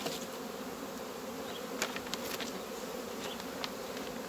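Honey bees buzz steadily in an opened hive colony of a small colony, a continuous soft drone with occasional faint clicks and taps, with no talk.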